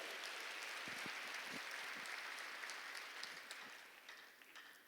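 Church congregation applauding during a sermon, a dense steady patter of many hands clapping at once that runs for several seconds and then gradually thins and fades toward the end.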